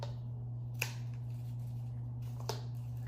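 Two separate sharp snips of florist shears cutting through flower stems while a centerpiece is assembled, one at about 0.8 s and one at about 2.5 s, close and crisp over a steady low hum, with no talking.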